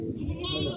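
A local goat bleats at a village goat market in Kalamnuri, Hingoli district: one short, close, loud wavering bleat.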